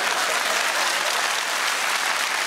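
A comedy club audience claps steadily, a thick, continuous burst of applause from a large crowd heard close and even throughout.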